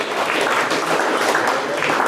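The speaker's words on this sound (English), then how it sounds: "Let's give him a round of applause, ladies and gentlemen." A crowd claps at a school player draft event at St Charles College, a brief, even burst of applause sustained throughout with no talk over it.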